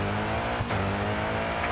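A race car in the Grid 2 racing game drifts through a corner, its loud engine drone joined by a short tire squeal in the middle.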